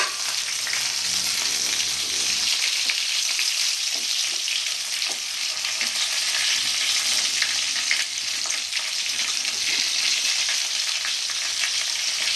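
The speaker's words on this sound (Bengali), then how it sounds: "একদিক ভাজা হয়ে গেছে আর একদিক আমি ভাজা করে তুলে নেব" Pointed gourd (potol) for Bengali-style dorma fries in a pan, giving a loud, continuous sizzle with occasional stirring scrapes, close by and without talk.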